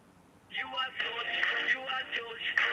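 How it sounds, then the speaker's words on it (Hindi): A phone call rings out over a mobile loudspeaker, a tinny, melodic ringtone starting after a brief quiet moment and repeating in short looping phrases at moderate volume. "सर की घंटी जा रही है"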